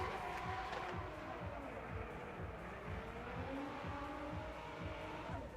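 BMW Z4 drift car from GSR Autosports on Nitto tires at a Formula Drift night round in Las Vegas: a steady, loud engine roar with tire noise runs throughout, blended with crowd din, the sound far off and unbroken.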